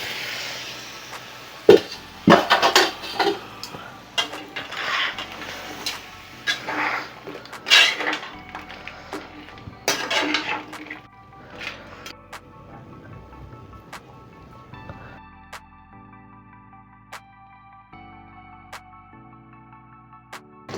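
Pieces of crab tipped into a pan of hot oil tempering for a Maharashtrian crab curry (kalvan), with loud metal pan clatter and bursts of sizzle over the first ten seconds, then quieter clinks as steady music takes over.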